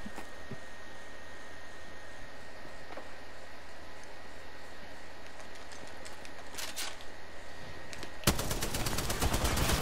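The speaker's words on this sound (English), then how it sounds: "Oh, I missed all of those shots!" Gunshots in the video game Apex Legends: after a long stretch of low ambient hum, a sudden rapid volley of sharp, close shots breaks out near the end and continues to the finish.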